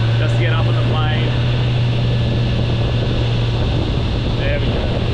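Sea Devil motorboat engine holding a steady, loud low drone as it builds revs to get onto the plane, with wind buffeting the microphone throughout and someone talking over it.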